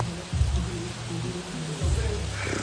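Steady rain hisses in a broad wash of noise, with a few dull low thumps now and then beneath it.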